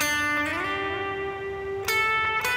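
Electric guitar playing the second part of a solo: a sustained note bends upward and rings, followed by two short picked accents, clear and alone.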